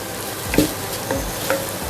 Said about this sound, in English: Once the masala is fried well for about a minute